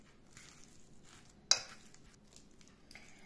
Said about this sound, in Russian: Немного майонеза и все перемешиваем.